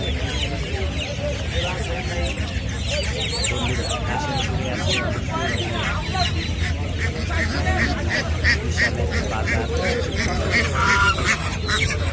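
Dense, continuous peeping and quacking of many ducklings for sale at a village market, close by, with people talking over the flock.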